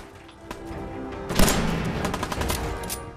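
Gunfire in the video game Fallout 4, a burst of rapid shots clustered mid-clip with a heavy boom at the start, loud and punchy over a dense backdrop of game sound.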